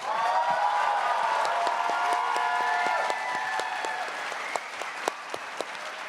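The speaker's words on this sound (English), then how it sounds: "Can we have a little round of applause for this amazing cast?" A convention-hall audience at a New York Comic Con cast panel applauds the cast, with sustained dense clapping that fades slightly before a few louder individual claps ring out near the end.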